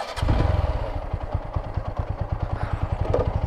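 An Apache RTR 160 4V motorcycle idles in neutral, its single-cylinder engine throbbing in a steady, close, even rhythm of low pulses that runs throughout with no voices.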